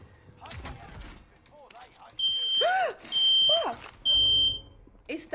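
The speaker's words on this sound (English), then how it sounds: "Is that the alarm" A loud smoke alarm shrieks indoors in long, piercing beeps with short gaps between them, while a person shouts and exclaims over it.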